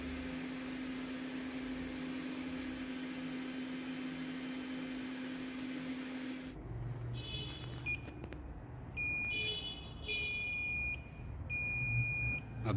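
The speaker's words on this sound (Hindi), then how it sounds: "मल्टीमीटर में तो मैंने होल्ड को रख दिया है, इसमें सिर्फ आपको रीडिंग नहीं दिखाएगा, सिर्फ एक साइड बीप करेगा बस।" Multimeter continuity beeps on a Samsung J210 phone board, heard as clear repeated electronic tones in short bursts near the end, with a steady hum before.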